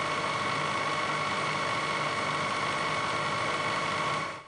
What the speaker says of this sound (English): want to adjust the speed of the mill to be about 250 to 300 RPM